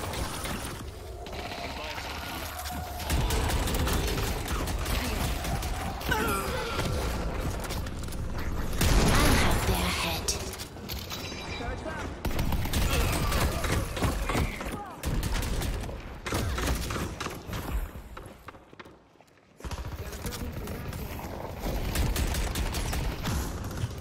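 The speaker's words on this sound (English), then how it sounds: "Talon's shooting me from afar." Grey Talon's ranged gunfire in the game Deadlock crackles in bursts amid mechanical clicks and game effects, with a player talking over the busy, shifting mix.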